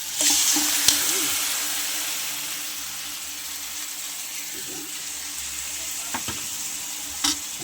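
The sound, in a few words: chicken sizzling in pan for sinampalukang manok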